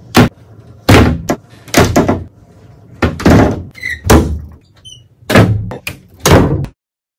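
A door banging and thudding repeatedly indoors, a series of loud, close slams and knocks with a few squeaks in between, then silence.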